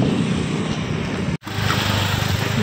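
Road traffic rumbles past on a busy town street, a dense mix of car and motorcycle engines that runs steadily, breaks off for a moment, then resumes just as loud.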